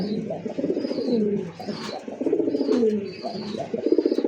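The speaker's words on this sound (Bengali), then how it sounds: "দেখছেন কবুতরের ডাক মাশাআল্লাহ" Domestic pigeons coo in repeated soft, throaty phrases close by, one after another with short pauses, and faint higher chirps come in between.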